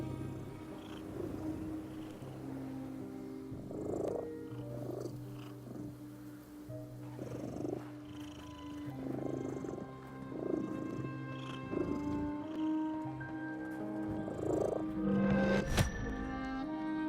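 Cat purring in the video game The Midnight Walk, a soft continuous rumble running steadily under layered game music, fairly quiet throughout.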